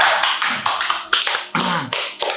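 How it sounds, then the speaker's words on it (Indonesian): An audience claps for a performer at a live show, a short burst of close, dense hand claps with sharp onsets repeating across the moment, no talking over it. "Tepuk tangan buat Mas Wandra."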